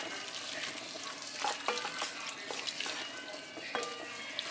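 Beef, red onion and corn in barbecue sauce stirred in a pan, soft sizzling under scraping spoon strokes and a few clinks, close and fairly quiet, with no talking.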